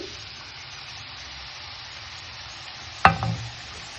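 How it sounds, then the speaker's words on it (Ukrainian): Mushrooms fry in oil in a pan as they are stirred, a soft continuous sizzle with a sharp clatter and burst of spatter near the end, close and otherwise quiet. "Помішуючи, смажимо їх до моменту, поки з них повністю випарується рідина."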